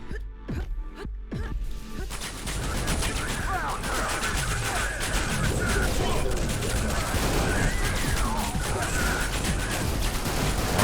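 Dense, continuous video game gunfire and explosions roar for most of the clip, with a few sharp separate blasts at the start before a sustained, loud barrage of shooting and crashes with no clear speech over it.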